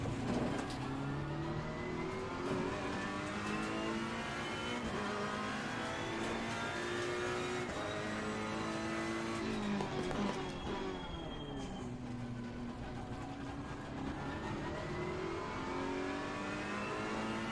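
A Mercedes AMG GT race car engine in the racing game Assetto Corsa Competizione roars continuously, revving up through the gears with rising and falling pitch sweeps and a brief lift-off midway, loud and steady throughout.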